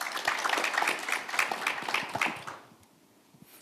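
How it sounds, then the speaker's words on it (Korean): Applause from a forum audience at a Busan energy-transition panel, a brisk spread of clapping with some voices through it, then fading to near silence after about two and a half seconds. "네, 큰 박수 부탁드리겠습니다."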